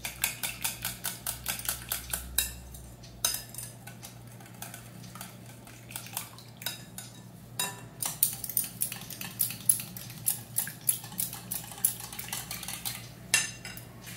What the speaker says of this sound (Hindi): आधा स्पून कश्मीरी चिली पाउडर, ये जस्ट कलर के लिए है, और इसको बीट कीजिए।